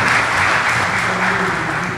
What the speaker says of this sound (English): So a big round of applause for everybody.